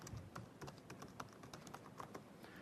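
Soft, steady typing on a computer keyboard, many light keystrokes in an even, rapid rhythm, recorded close but at low level with no talking.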